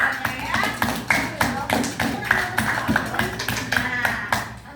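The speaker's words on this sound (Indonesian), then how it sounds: "Tepuk tangan dulu" A classroom of students claps together after a teacher's prompt, giving a run of sharp, fairly rhythmic hand claps with voices mixed in.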